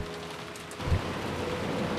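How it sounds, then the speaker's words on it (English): Steady rain falls in the Umineko visual novel game, a dense, even wash of downpour with a brief low rumble near the middle and no voices. "flew out into the rain."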